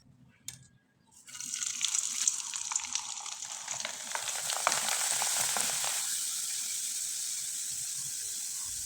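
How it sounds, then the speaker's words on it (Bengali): Rice-based jhuri pitha drops into hot oil after a soft clink, setting off a loud, close bubbling sizzle that crackles for several seconds, then settles into a quieter, even hiss with no voices. "এবার কিছুটা পিঠা আমি ভেজে আপনাদের দেখিয়ে দিচ্ছি পিঠাগুলো ভাজতে কিন্তু বেশি সময় লাগে না তেলে দেবেন আর তুলে নেবেন"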